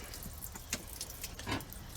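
Engine coolant, mostly water with a little antifreeze, splashes and drips as a cylinder head is pulled off during an engine teardown, a close, continuous trickle with a couple of louder spatters.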